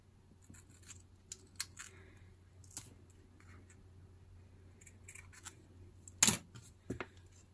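Scissors cut paper tape while a journal is bound from a single sheet, giving several quiet, close snips and scratches spread over a few seconds, with one sharper, louder cut near the end.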